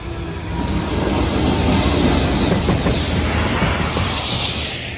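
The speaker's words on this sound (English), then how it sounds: "Yeah, I can see the train." A train rolls through the Boutham level crossing as a loud, broad rush and rumble that swells in, holds steady with rhythmic wheel clatter, then begins to fade, heard close with no talking.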